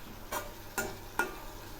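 Pumpkin greens stirred in a pan, giving three short, separate scraping strokes at an even pace, close and fairly quiet, with a faint sizzle between them.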